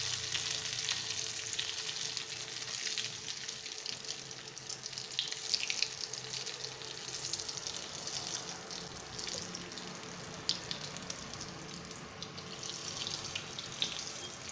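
Green peas chops frying in hot oil for a crisp winter snack, giving a steady, close sizzle and crackle that runs the whole time with no talking.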